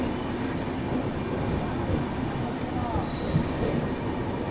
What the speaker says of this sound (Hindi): फाइनली हम लोग कोटा जंक्शन रेलवे स्टेशन पहुंच चुके हैं।